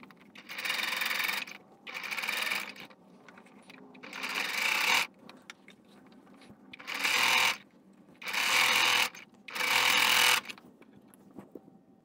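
A sewing machine straight-stitches fabric on a dress form in six short, loud whirring bursts separated by quiet pauses.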